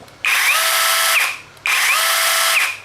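A cordless 8-inch chainsaw whirs in two bursts of about a second each, with a brief pause between. Each burst starts and stops abruptly with a high motor whine.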